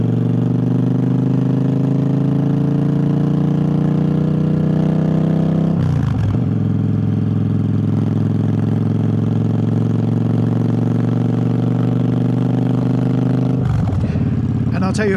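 A Triumph Bobber motorcycle engine drones steadily with strong harmonic tones in the wrong gear, with abrupt gear-change breaks around six and fourteen seconds before the note settles again, loud and close throughout.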